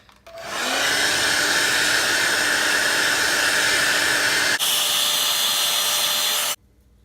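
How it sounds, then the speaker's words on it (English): A hair dryer blows steadily on a wig for several seconds, loud and close. It changes pitch once partway through and then cuts off abruptly. "Blow dry it down."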